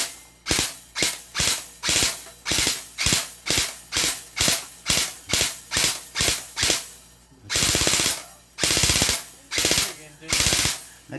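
An M4A1 CQB airsoft gun fires a long run of evenly spaced, loud, sharp snapping shots, close to the microphone. A few quicker bursts come near the end.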